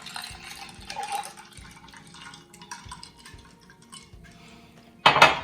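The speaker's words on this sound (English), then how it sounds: "Some ice, some milk, just really cold milk," Ice and really cold milk go into a glass for dalgona coffee, with soft clinks and a gentle liquid pour that grows to a louder splashing rush at the very end.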